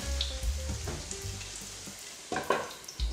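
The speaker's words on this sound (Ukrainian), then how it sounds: "і продовжую смажити." Yeast pancake batter with apples sizzles and crackles in hot oil in a pan, a steady close frying hiss with a few soft clinks and shifts.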